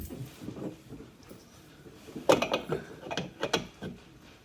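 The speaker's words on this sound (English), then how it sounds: "And then make sure that all them bolts are tight." Bolts being tightened on the legs of a bathroom fixture with a ratchet-like tool: a few short bursts of clicking, grinding mechanical strokes, close and moderately loud, with quiet handling noise between.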